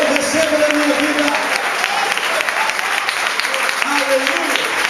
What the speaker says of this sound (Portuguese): Se você recebe isso, aplaude ao Senhor e diga: eu recebo na minha vida.